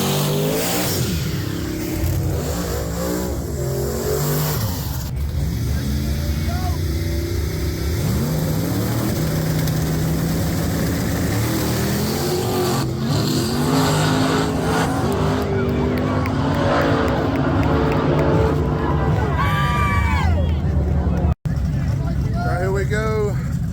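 A gray Mustang drag race car at a night drag racing event revs and accelerates, engine tones sweeping up and down repeatedly, loud and close amid other engine noise and crowd murmur.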